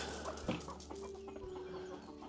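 Several hens cluck softly and intermittently around a farmyard, with a brief louder squawk early on, the low calls steady and close to the listener, no voices.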